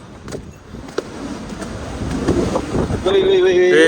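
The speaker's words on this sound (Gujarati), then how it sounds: "ભાઈ પવન તો જો" Strong wind gusts on Girnar mountain during the monsoon, a broad rushing roar that builds louder toward the end, with a brief thump near the start and a voice rising over it at the close.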